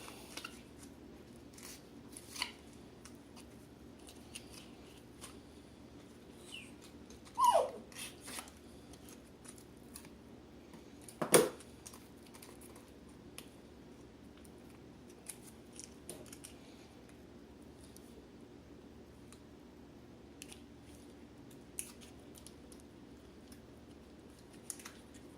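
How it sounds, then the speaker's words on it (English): Scissors snip at an MRE cheese spread packet from the 1991 Menu 4 omelet with ham ration, with sparse crisp cuts and a couple of louder snips and crinkles over a quiet background. "see if we can cut it open"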